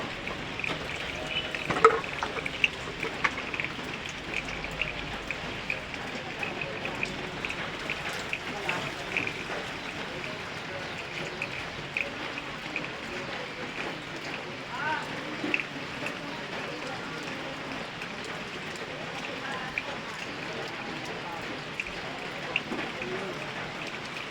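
Rain falls steadily throughout on a morning after a hot day, a dense, even patter with scattered louder drops and no letup.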